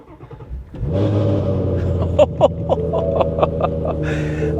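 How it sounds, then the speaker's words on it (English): A 2017 Ford Mustang GT350 engine starts and settles into a loud idle through its factory exhaust, then gets a series of sharp, close blips of the throttle in quick succession. "This thing has a really gnarly exhaust, and this is the factory exhaust."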